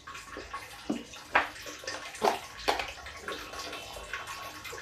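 Water is poured and splashed in a kitchen while cooking dal with bottle gourd, coming in several short sloshing bursts close by, moderately loud, with no voices.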